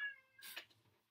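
A house cat gives one drawn-out meow that rises and then falls, fairly close and clear in a quiet room, with a short softer trailing sound after it.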